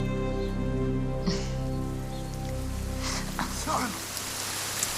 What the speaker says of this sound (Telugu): వర్షం ఆగట్లేదు